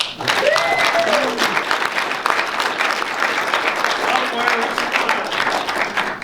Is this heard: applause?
yes